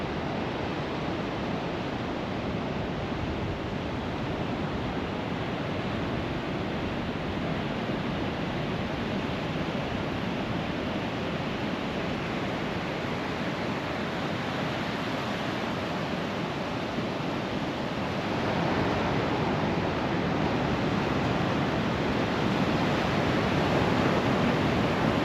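Ocean waves at Second Beach near La Push, Washington wash in as a steady, broad roar of surf with a slight swell in loudness near the end, no voices.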